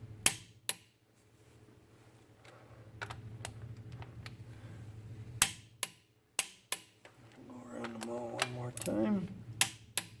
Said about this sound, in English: hold that while I torque these